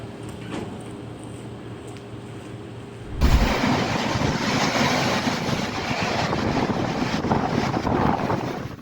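Waves crash over the seawall at Dawlish while the London to Penzance train pushes through flooded rails: a quiet gusty stretch, then a sudden heavy surge of spray and rushing water that stays loud and roaring throughout.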